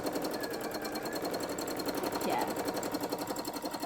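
An embroidery machine stitching fire designs onto cosplay panels makes a fast, even mechanical chatter throughout, fairly quiet, with a brief voice murmuring once.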